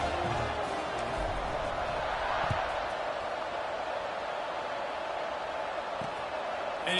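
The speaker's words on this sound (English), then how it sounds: "Do you think this crowd's going to get loud when their defense comes on the field?" Steady stadium crowd roar from a College Football 26 game, a continuous wash of cheering and noise holding at an even level throughout with no clear peaks, under faint background commentary.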